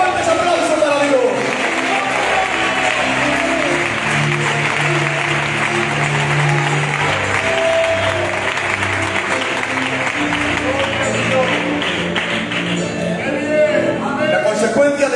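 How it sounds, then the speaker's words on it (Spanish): Church congregation applauding during a Spanish-language sermon, sustained dense clapping and voices for several seconds, with music and speech underneath. "Fuertes aplausos para Dios."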